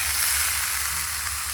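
Egg curry with meat masala sizzles in a pan, a dense continuous close frying hiss lasting under two seconds with no voices.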